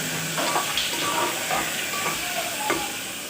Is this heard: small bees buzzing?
no